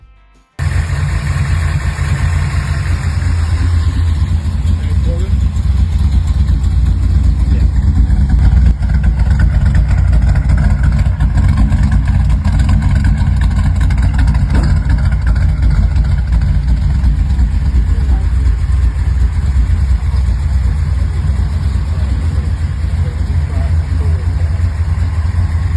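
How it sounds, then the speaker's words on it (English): A 1940 Chevrolet Coupe with a 454 big block V8 idles steadily and loudly up close, a deep, even rumble that holds for the whole stretch with little variation in pitch. "This 1940 Chevrolet is powered by a 454 big block mated to an automatic transmission"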